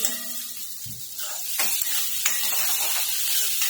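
Tomatoes and ginger paste fry in an oiled pan for Sindhi dal pakwan, with a steady broad sizzle, a clink of a spoon and occasional scraping as the mixture is stirred, close and moderately loud with no talking.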